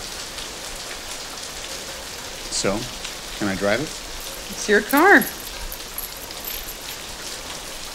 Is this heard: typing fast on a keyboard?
no